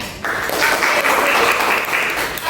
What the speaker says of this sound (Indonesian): Beri tepuk tangan untuk Titin, Nurul atas jawabannya.